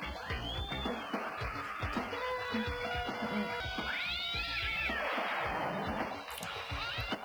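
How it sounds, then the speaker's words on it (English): A cat yowls and meows in drawn-out, wavering cries, fairly faint and set against a background of cartoon soundtrack and other noise. "Cat's not having a good time."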